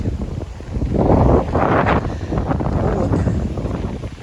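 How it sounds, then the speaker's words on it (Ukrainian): Strong wind buffets the microphone in loud, continuous low rumbling gusts, swelling and easing throughout. "Боже, який сьогодні вітер"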